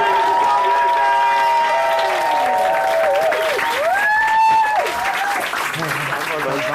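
An audience at a live stand-up comedy gig cheers and applauds, a loud dense wall of clapping and whoops with a voice talking over it.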